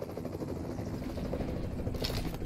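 Helicopter hovering overhead in the mobile shooter PUBG Mobile, a faint, steady low rotor drone with a brief brighter burst near the end.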